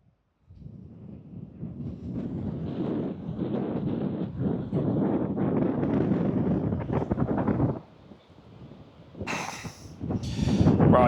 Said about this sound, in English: as you can probably see and hear, we're at the beach. It's so unbelievably windy that Em is frozen because she came out.